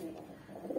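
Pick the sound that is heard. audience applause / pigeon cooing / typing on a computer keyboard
pigeon cooing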